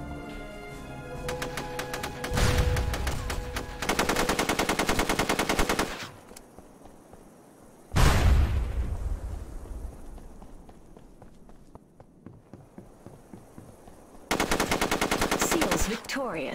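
Rapid automatic gunfire from an RA14 rifle in SOCOM 2, on the Crossroads map, comes in loud, sustained bursts, with brief quiet gaps and footsteps between them.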